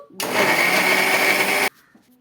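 A kitchen mixer grinder with its lid clamped shut runs in one loud, steady whirring burst of about a second and a half, then stops abruptly, leaving quiet room sound.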